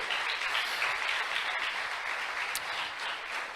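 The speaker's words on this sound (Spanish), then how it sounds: "Dele un aplauso al Señor." A church congregation applauds in praise during a Spanish-language sermon, a dense, steady wash of many hands clapping at even loudness throughout.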